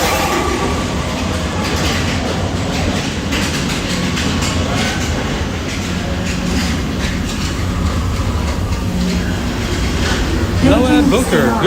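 The Space Mountain roller coaster train at Walt Disney World rumbles and clatters loudly and continuously along its track, with a rising squeal near the end.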